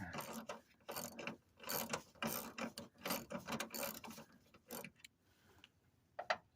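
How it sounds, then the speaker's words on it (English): A ratchet with a 10mm socket loosens a headlamp bolt on a 2009 Ford Focus SE, heard as bursts of quick clicking and mechanical rattling that run for several seconds, then fade to quiet with one last sharp click near the end. "A 10mm socket."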